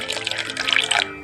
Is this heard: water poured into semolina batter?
yes